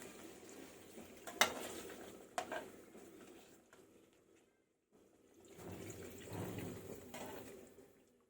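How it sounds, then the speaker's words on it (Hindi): Faint sloshing and pattering of liquid going into a pan, with a few soft clinks, a brief pause, then more gentle pouring. "मैं खाली पानी डाल रही हूँ।"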